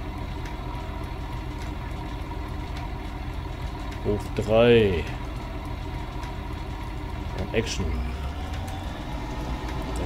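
A tractor engine idles in Farming Simulator 19, a steady low rumble running under a man's speech, with a brief rising whine near the middle.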